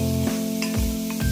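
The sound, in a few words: onions and masala frying in oil on low flame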